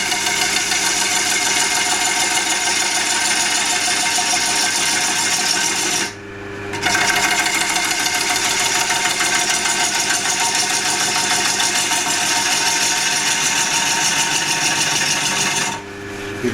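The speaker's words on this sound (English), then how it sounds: "It's a slicer, so you tuck it under your arm and you slice." A wood lathe spins a platter blank while a slicer tool cuts, giving a steady loud whir with a rapid mechanical chatter that cuts out briefly twice.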